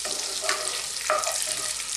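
Whole spices sizzle and crackle steadily in a hot pan while cooking paneer masala, with a brief scrape of stirring partway through.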